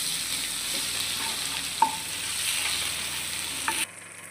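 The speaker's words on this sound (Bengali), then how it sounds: "জিরের গুঁড়ো আর আদা রসুনের পেস্ট। এবার এটাকে ভালোভাবে কষিয়ে নিতে হবে।" Cauliflower and potato sizzle in hot oil with cumin powder and ginger-garlic paste, a steady fry broken by a couple of sharp clinks of a spoon stirring the pan, then cut off abruptly.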